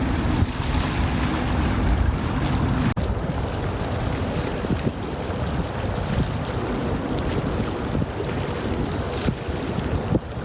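Small waves wash onto a little beach at Bushwick Inlet Park in Williamsburg, New York, as a steady broad rush mixed with gusty wind buffeting the microphone throughout.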